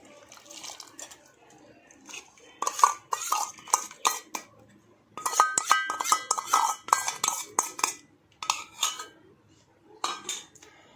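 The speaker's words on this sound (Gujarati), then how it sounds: "હવે તેને આપણે હલાવે હલાઈ કરવાનું આ રીતે ધીમા તાપ ઉપર" A spoon scrapes and clinks against a pot as boiled milk with ice cream premix is stirred over low heat, in irregular bursts of metallic knocks and liquid swirls.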